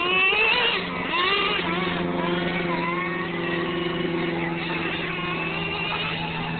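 A tuned nitro RC monster truck engine runs steadily with a buzzing, harmonic whine that shifts pitch slightly, staying close and fairly loud throughout with no talk.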